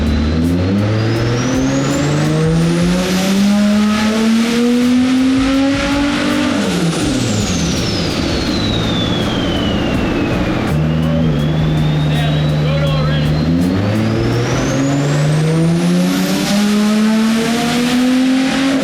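Nissan R32 drift car engine revving hard during power runs, long rising and falling sweeps of loud, harsh engine roar with a high whine climbing over it, close and continuous, with voices partly mixed under the noise.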